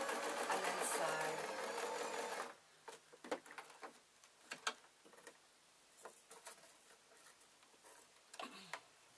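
A domestic sewing machine stitches a seam on a sheer gossamer fabric bag, a steady loud mechanical whirr for a couple of seconds, then stops and gives way to soft handling clicks and rustles while a person talks.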